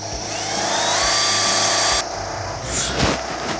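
A power drill grinds into an apartment wall, where the bit goes in stiffly. Its loud, steady whine runs for about two seconds and then cuts off, followed by a few dull knocks and handling noises.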